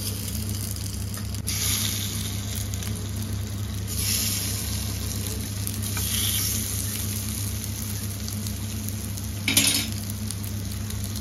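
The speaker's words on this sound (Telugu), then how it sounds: "ఇప్పుడు ఎగ్స్ ని కూడా ఇలాగే వేయించుకోవాలన్నమాట" Eggs frying in oil in a pan over a medium flame with homemade tandoori masala, giving a steady close sizzle and hum with an occasional clink of a utensil against the pan.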